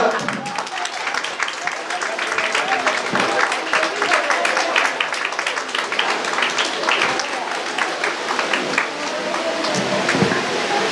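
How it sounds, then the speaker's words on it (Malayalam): An audience claps at an SNDP branch Vishu gathering in 2024 as a senior member is honored, the applause rolling on steadily for several seconds while a voice speaks over it. "കയ്യടി പോരാ."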